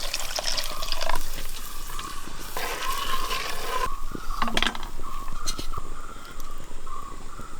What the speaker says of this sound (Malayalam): അല്പം വെള്ളം ചേർത്ത് കൊടുക്കുക.